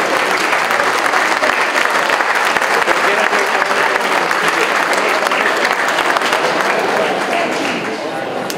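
A university audience gives loud, sustained applause for a doctor of sciences being introduced at a ceremony, continuous dense clapping that holds steady for several seconds.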